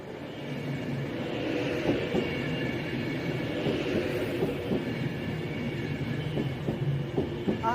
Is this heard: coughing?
no